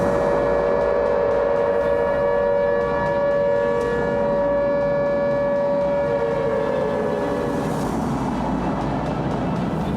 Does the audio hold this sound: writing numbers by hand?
no